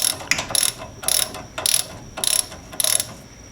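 Ratchet wrench tightening a rear brake caliper bolt on a 2013 Ford Escape: five evenly spaced bursts of close, crisp clicking in a steady back-and-forth rhythm, with no voices.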